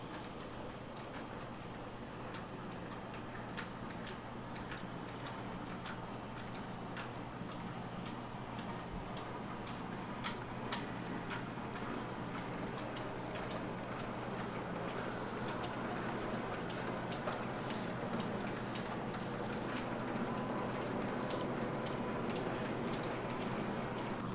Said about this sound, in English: The train trundles under Mill Lane Bridge and over the points and into the loop.